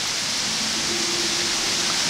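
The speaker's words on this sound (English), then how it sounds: "Getting a little breezy." Wind and rain from Hurricane Gordon, recorded outdoors: a steady, dense, loud hiss of rushing air and falling rain that holds unbroken throughout, with no voices.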